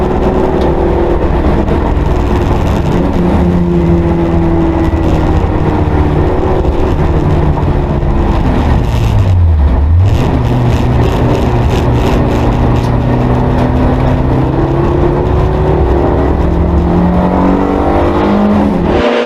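A Suzuki Baleno race car accelerates hard at a race start at Zandvoort amid a pack of other racing cars, loud sustained engine roar with rising and falling revs and a car sweeping past.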